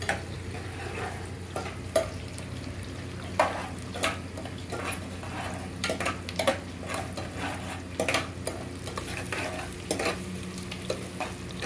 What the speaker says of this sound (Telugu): గోల్డ్ కలర్ వచ్చేలాగా గోలియాలి.